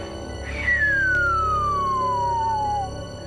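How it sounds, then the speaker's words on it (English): Atmospheric radio signals, called spherics, recorded near Marfa where the Marfa lights appear: one long, clear whistling tone that glides steadily downward in pitch for about two seconds, heard alone over a low steady hiss. "They're long, kind of descending pitch signals that sound something like."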